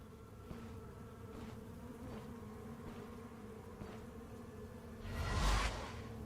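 Bees attack in the Stoneshard game with a steady close insect buzz and drone, pulsing faintly, capped near the end by a louder swooshing hit.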